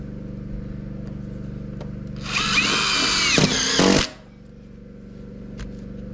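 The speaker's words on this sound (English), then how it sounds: "I grab the drill and then I screw it in" A power drill whirs for about two seconds, driving a screw into steel roofing, then stops, with a low steady hum in the background throughout.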